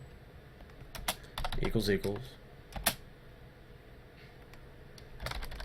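Typing on a computer keyboard while coding a Minecraft 1.8.9 mod, with scattered quick clicks and short bursts of keystrokes, fairly faint and close, alongside a brief spoken word.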